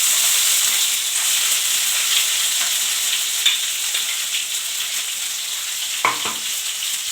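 Ground paste of cardamom, black pepper and cumin fries in oil for a Hyderabadi paneer gravy, giving a steady close sizzle with occasional soft stirring scrapes and a couple of louder clatters near the end.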